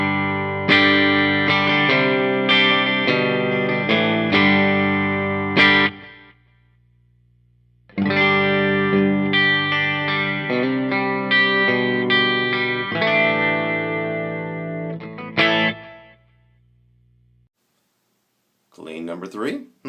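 An electric guitar through a Nova Drive Mark II overdrive pedal plays chords and notes with a gritty, slightly overdriven tone, two phrases separated by a pause, ending with a brief strum.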